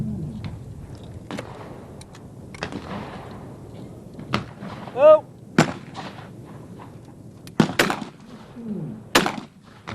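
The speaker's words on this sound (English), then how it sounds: "Steve Brightwell shooting those very smoothly, looking really, really good at the moment" Shotguns firing at a clay pigeon shooting competition, several sharp loud reports spaced irregularly, some in quick pairs, with faint crowd noise and quiet talk between shots.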